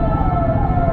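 A steady siren tone holds close and loud over a rumbling road background, a brief unchanging stretch with no voices.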